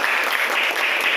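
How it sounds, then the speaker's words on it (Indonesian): Classroom applause after students finish acting out a fable, a steady dense clatter of many hands clapping throughout, close and fairly loud with no voices over it. "Tepuk tangan."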